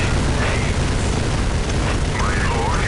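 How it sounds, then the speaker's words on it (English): Dual assault cannons firing in Dawn of War, a dense, loud, continuous roar of rapid fire and explosions filling the whole moment, with voices faintly mixed in. "he's gone for his dual assault cannons. God, that's a loud thing."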